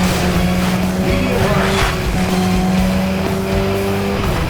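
Rally car engine droning steadily in the Sega Rally racing game, with a constant tonal hum and faint rushing spray through puddles, loud and continuous with no talk.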